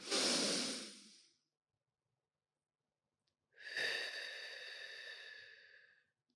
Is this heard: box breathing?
yes